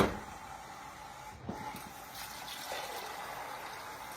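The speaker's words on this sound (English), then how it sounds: "we are going to add water" Tap water running into a pot of black beans and ham in a home kitchen, a soft, steady stream splashing quietly at close range with a faint clatter partway through.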